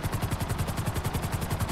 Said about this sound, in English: Uh-oh, there's another chopper.